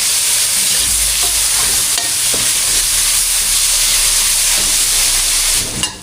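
Tomato sautéing with garlic, onion and ginger in oil gives a loud, continuous sizzle. A few scraping stirs come through, and the sizzle dips away at the end.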